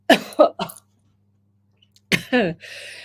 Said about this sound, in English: have you got a cough right now